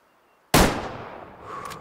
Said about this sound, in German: Und den auch legen mit einem Schuss ins Herz, würde ich sagen.